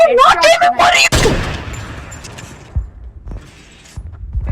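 Sniping gunfire in a creative-mode shooter video game: one loud sharp shot cracks and rings out, then a few softer muffled thumps follow, after a stretch where a voice talks excitedly in a high pitch.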